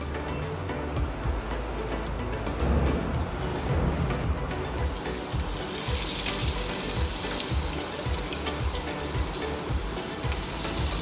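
Vegetable lollipops coated in maida batter frying in hot oil, a steady loud bubbling sizzle that swells into brighter crackling partway through, with no talking.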